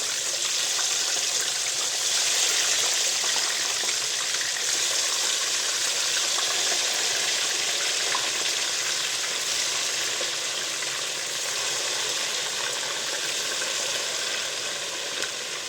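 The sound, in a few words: fish frying in oil, sizzling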